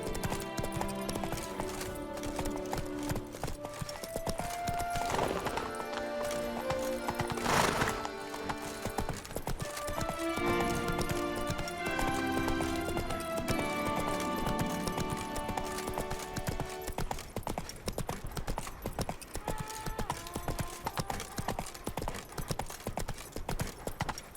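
A horse gallops in The Witcher 3 with continuous rhythmic hoofbeats, joined briefly by a whinny, all under a steady bed of game music for over twenty seconds.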